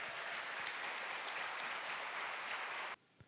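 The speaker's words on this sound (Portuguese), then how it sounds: "Aplauda bem forte a palavra de Deus." A church congregation at a morning service applauds steadily and densely, a continuous wash of clapping that cuts off abruptly near the end, followed by near silence.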